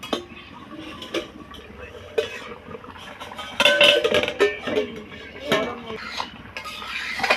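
A lid lifted off a pot of potatoes set to boil, giving a few metallic clinks and scrapes of cookware with a louder clatter midway, close and fairly busy.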